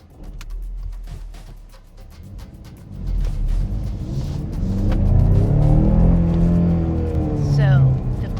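A Ford Mustang EcoBoost with a turbocharged four-cylinder engine accelerates, its engine note climbing in pitch and loudness over several seconds, close by, after a brief stretch of lower idle rumble.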